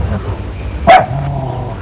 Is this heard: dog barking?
yes